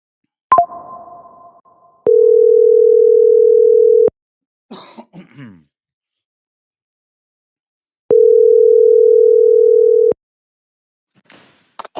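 Telephone ring-back tone while placing a phone call, two steady two-second tones spaced about six seconds apart, with a cough and a click between them.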